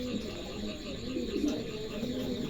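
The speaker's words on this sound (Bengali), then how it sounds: "দেখেন চমৎকার একজোড়া আমেরিকান লাক্ষা আছে" A pair of American Lakha pigeons coo in low, soft, rolling murmurs close by, with a faint background hum throughout.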